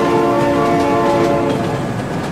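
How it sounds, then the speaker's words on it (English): A train in the BeamNG driving game rolls past loudly, with a sustained horn chord ringing over a steady rumble of wheels and cars that continues throughout. "Oh my god, train!"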